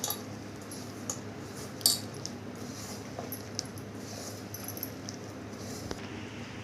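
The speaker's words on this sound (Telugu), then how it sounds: "కలుపుకుందాం మొత్తం" A spoon stirs leftover dosa batter in a bowl, mixed with chopped curry leaves, salt and a little cooking soda for crispy punugulu; faint scraping with a few soft clinks over a quiet room hum.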